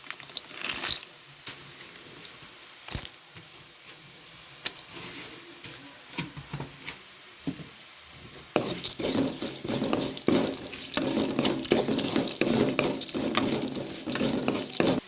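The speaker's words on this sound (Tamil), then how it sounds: "இப்போ அடுப்பை சிம்மில் வச்சுட்டு பொட்டுக்கல்ல போட்டுக்கலாம்." Roasted gram dropped into a pan of chicken mixture over low heat while making chicken kola urundai, soft stirring scrapes and crinkly rustles growing into a steady close sizzle, no talking.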